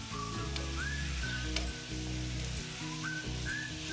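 Lamb stir-fries in a pan over high heat with a steady close sizzle and intermittent stirring scrapes, plus a few faint whistle-like tones in the background.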